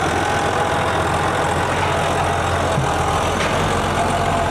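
A McCormick tractor engine runs steadily in New Zealand, a loud, unbroken drone close by with no change in pace and no voices.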